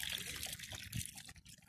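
Hosepipe water trickling and splashing down a house gutter, a faint, uneven running flow with small gurgles and drips, no voices.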